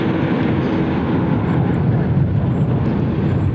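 A Frontier airliner arriving at Cleveland Hopkins airport on a cold Thanksgiving day gives a loud, steady broadband jet roar that holds evenly throughout, with no talking.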